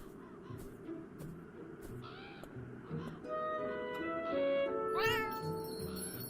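A cat meows repeatedly in a quiet garden in the video game Beyond Eyes, several rising and falling cries heard close by over soft ambient background sound and faint bird calls.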